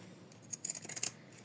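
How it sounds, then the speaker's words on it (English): Scissors trim tear-away stabilizer from the sides of an embroidered coaster with a quick run of close, crisp snips clustered together and faint between cuts. "Then we need to trim it from the sides with"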